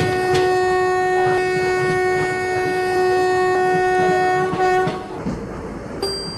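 A simulated Indian train passes by in the game Rail Works Indian Train Simulator. A sustained, tonal horn sounds over continuous rolling rail noise, then cuts off near the end, followed by a brief second horn note.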